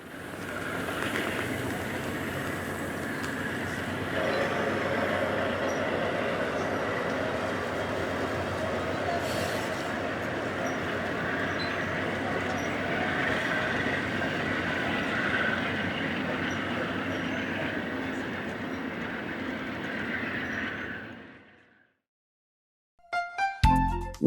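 A BNSF passenger train, number 3, rolls steadily east through Arizona on the Seligman subdivision, a loud continuous rumble of wheels and cars that holds for over twenty seconds, then cuts off abruptly, followed by a few brief clicks.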